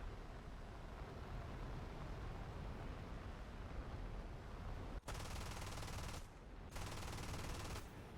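Aircraft machine guns firing in the War Thunder air combat game, a dense continuous stream of rapid fire over steady engine roar, with two sustained loud bursts near the end separated by a brief pause.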